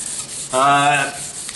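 An acrylic seam being sanded and polished by hand gives a close, steady rubbing hiss that swells into a louder, tonal squeaky stroke midway, then settles back to soft friction.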